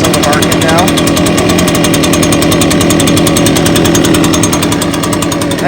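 An Echo PB580T backpack leaf blower idles close by, a loud, steady, fast-pulsing engine drone that holds without change throughout.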